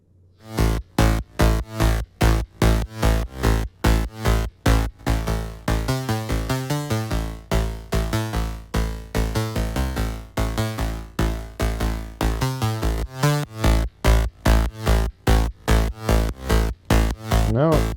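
A thick sidechained analog-style synth bass pumps in a rhythmic pattern, each note ducking and swelling in a steady, driving pulse, loud and up front.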